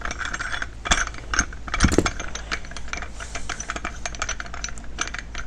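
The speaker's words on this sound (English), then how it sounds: "Let's thread that on. And then thread this all the way down as well." Metal parts clicking and ratcheting as a spring compressor puller is threaded on during a Ski-Doo 850 turbo install, a close run of small irregular taps and ticks with a couple of sharper clanks early on, no voices.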